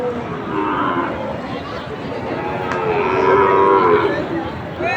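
Friesian cows lowing at a busy rural cattle market in Jaipurhat, with several overlapping moos rising and falling across a continuous crowd murmur.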